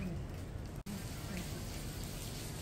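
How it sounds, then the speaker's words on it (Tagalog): Rain falls steadily on Haji Lane, a street in Singapore, a continuous close patter on surfaces that briefly cuts out once, with faint voices in the background. "It's raining, man."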